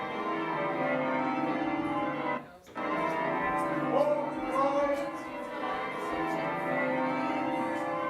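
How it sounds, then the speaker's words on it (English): Bells ringing from a bell tower, a dense layered pealing that carries on steadily, with a brief gap and faint voices in the background. "the bells are just going to ring"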